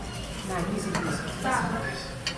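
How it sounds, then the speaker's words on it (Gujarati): Spices being stirred into a hot oil tempering in a pan, with a spoon scraping and clinking against the metal in short strokes and a faint sizzle underneath, close and fairly loud. "વઘારમાં મિક્સ કરીશું બરાબર"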